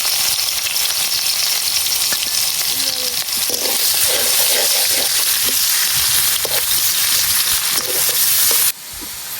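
Chopped onion and garlic fry in hot oil with a bay leaf, giving a loud, continuous, close sizzling hiss with occasional stirring scrapes and a faint voice underneath.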